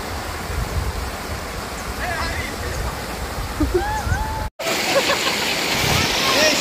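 A waterfall in Dhule district rushes in a steady, broad roar close by, with faint bird chirps over it and a brief dropout partway through.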